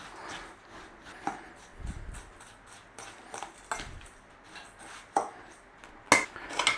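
Breadcrumbs and melted butter stirred in a bowl that is a little too small, making crumbly scraping and repeated spoon knocks against the side in an uneven rhythm, close and fairly quiet, with no speech.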